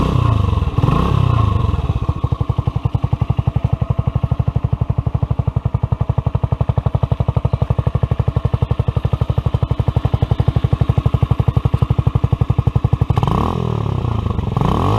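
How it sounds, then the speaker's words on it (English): A KeeWay SuperLight motorcycle starts up and settles into a steady, loud, close idle, its rapid regular engine pulses running for about eleven seconds before a thump and clatter at the end. "Starting the bike, have to have the kickstand up so it disables the anti-start mechanism for it."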